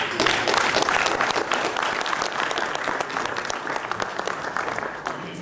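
A workshop audience gives a round of applause for a panel, loud and close, with sharp individual claps standing out in a sustained crowd patter that tapers gently toward the end.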